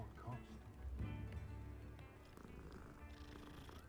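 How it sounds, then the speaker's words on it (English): A cat purring in the Hogwarts Legacy video game, a soft steady rumbling purr heard under a male player's talk. "Listen to him purr."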